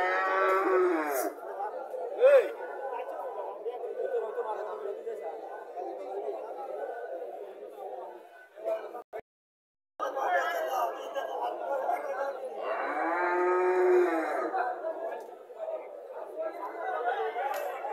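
Cows and heifer calves lowing on a farm, several drawn-out moos rising over busy chatter from people nearby, with a brief break in the middle before more lowing.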